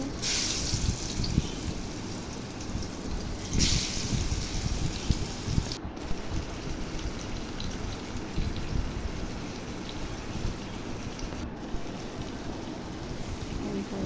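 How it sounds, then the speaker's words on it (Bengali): Taro fritters fry in hot oil, giving a steady, moderately loud sizzling hiss throughout with a few brief louder spits. "এখন তেল দিয়ে বড়াগুলো দিয়ে দেওয়া হইতেছে"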